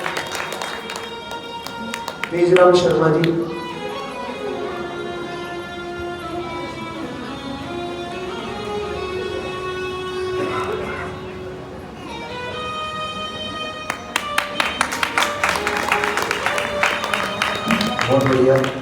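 An audience at a Bhagwat Katha claps along, bursts of applause mixed with devotional music and someone speaking over a loudspeaker, the clapping swelling strongly near the end.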